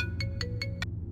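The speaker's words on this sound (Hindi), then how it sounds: "मेरा फोन।" A mobile phone rings in a Hindi-dubbed South Indian horror film, four evenly spaced electronic tone bursts over a low steady hum, fairly quiet and with no voices.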